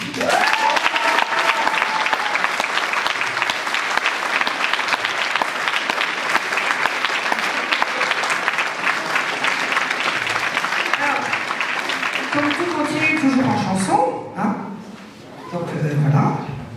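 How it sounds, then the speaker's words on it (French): Sustained applause fills a teachers' concert hall at a music school for about fourteen seconds, then fades, with voices and a brief dog-like yelp near the end. "Je vous demande d'applaudir Monsieur Franck Donofrio."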